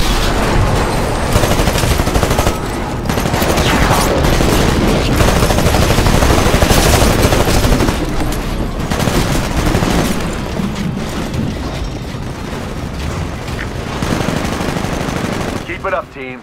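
Sustained automatic gunfire and booming blasts from Titanfall on PC rattle on loudly and almost without pause for the whole stretch, with bursts layered over one another and heavy low rumbles beneath.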